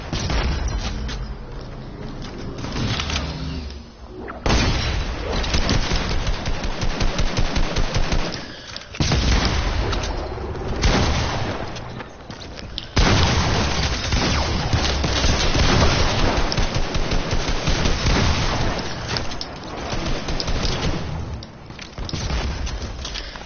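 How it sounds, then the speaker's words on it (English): Video game gunfight with repeated bursts of rapid automatic fire and booms, loud and close, coming in clustered volleys with brief lulls between them across the whole stretch. "me and this guy got into a bunch of gunfights."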